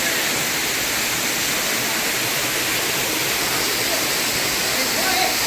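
Talakona waterfall near Tirupati pours into a stream, making a steady, loud, unbroken rushing roar that stays even from start to finish.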